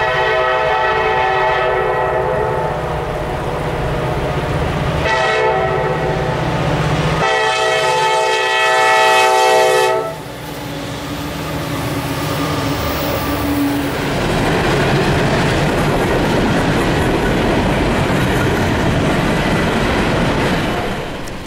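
Freight train led by an EMD SD40E locomotive passing a railroad crossing near Duffield, Virginia: loud multi-tone horn blasts in bursts, then rumbling and clattering wheels of passing cars close by.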